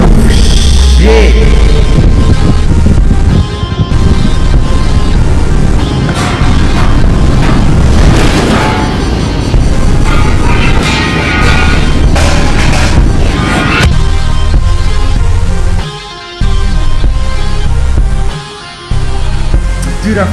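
Escape pod launching and exploding in the video game Subnautica: a loud, sustained rumbling roar with deep booms throughout, briefly cutting out twice near the end.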